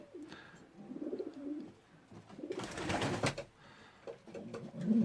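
Andalusian pigeons cooing in a loft, several soft low throaty coos in irregular bursts with a brief rustling flurry, close by and without speech.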